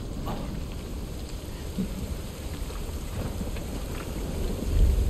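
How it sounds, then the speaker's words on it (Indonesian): Rain falling in the video game Final Fantasy 7 Rebirth, a soft, steady hiss of rainfall with a low rumble swelling near the end, no voices over it. "Oh ini hujannya takut nih, hujannya hujan asem."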